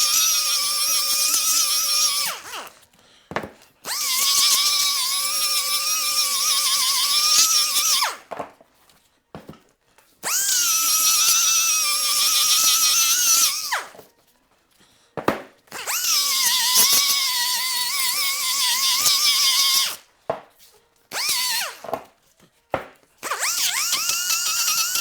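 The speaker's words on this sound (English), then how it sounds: "sander here. You could do this with any kind of sandpaper. I'm using 36 grit here" A power sander fitted with coarse 36 grit sandpaper runs in several sustained bursts of high, whining abrasion lasting a few seconds each, separated by short pauses and brief taps, close and loud with no talk.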